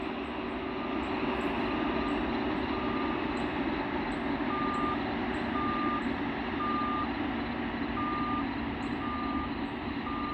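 Reversing beeps from rail maintenance equipment sound as steady, regularly spaced tones above a loud, continuous rumble of engine noise, with no talking.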